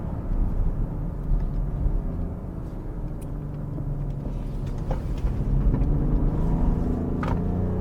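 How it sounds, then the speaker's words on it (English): A BMW X5 30d diesel SUV engine rumbles steadily under load as it accelerates out of a corner, with brief tire chirps and squeal from wheel spin near the end; no voices. "A little bit of wheel spin at the exit of the corner"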